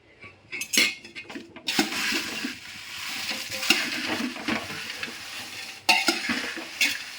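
Green chilies roast in a pan at close range with busy sizzling, scraping and stirring, plus spoon and pan clinks in irregular bursts. No voices.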